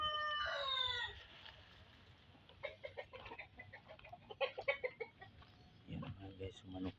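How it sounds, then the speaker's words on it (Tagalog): Fighting gamecocks in a yard just after rain, one crowing at the start, then a run of close clucks and short squawks, with quiet voices in the background. "Yan mga guys, manok ni Boss Jeep"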